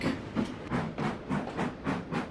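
A moving coal train on rails gives off a regular, even beat of hissing, clacking pulses about twice a second. It sounds moderately close, with no talking over it.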